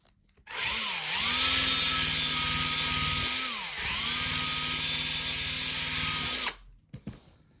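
A polishing wheel works an old 51-year-old Honda moped sprocket, a steady high whine with two brief dips where the load drops and the motor pitch sags and recovers, then spins down abruptly near the end; no talking.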